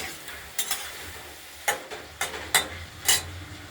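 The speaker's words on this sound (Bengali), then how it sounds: "ঢাকনা খুলে নেড়ে দিলাম" Chopped cauliflower and peas are stirred as they fry in a wok: about half a dozen short scraping strokes over a quiet, low sizzle; no one speaks.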